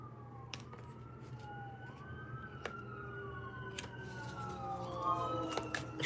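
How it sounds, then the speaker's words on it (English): An ambulance siren passes by outside, its rising and falling wail faint and distant beneath steady room tone, growing slightly louder toward the end, with sharp clicks scattered throughout and no talk. "Y'all hear the ambulance, I'm gonna say."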